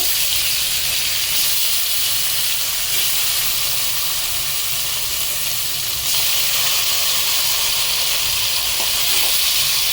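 Pieces of hilsa fish hit a hot pan of oil with green chillies, sending up a loud, steady sizzle and hiss of frying that carries on unbroken, close and strong, with no voices.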